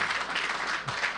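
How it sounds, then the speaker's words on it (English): Brief burst of dense, steady crowd clapping at a Lagos town hall, close and fairly loud throughout. "I think you have to clap a bit louder."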